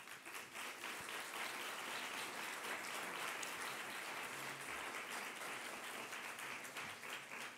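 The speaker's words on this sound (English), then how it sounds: "Give him a big round of applause." A seated audience at a New York university event applauds a speaker with dense, steady clapping that holds evenly throughout, heard from a distance at low level.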